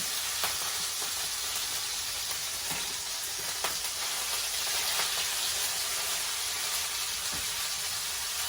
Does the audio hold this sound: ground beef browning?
yes